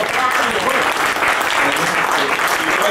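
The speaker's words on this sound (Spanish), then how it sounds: "Ándale, un aplauso por favor." Loud, dense applause from the audience at a book presentation, a full, sustained burst of many hands clapping, close and energetic, with some voices mixed in.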